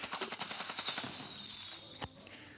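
Rapid bursts of gunfire in the mobile battle game Zooba, a quick run of repeated shots followed by a single louder blast near the end, loud and close with no talking.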